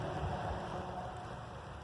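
Rain falling outdoors at an old hotel dig site, a steady dense hiss of drops with no talk, constant and fairly soft throughout.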